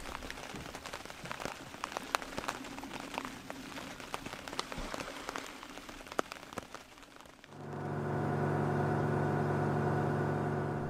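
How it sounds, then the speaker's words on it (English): Steady rain patters and drips for several seconds aboard a Nordhavn 78 yacht at anchor, then gives way to a loud, constant mechanical hum with a low drone. "It was still raining non-stop"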